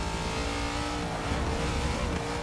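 Racing-game car engine accelerating hard with the tune removed, a loud continuous roar that holds steady with slight rises in pitch, close and unbroken throughout.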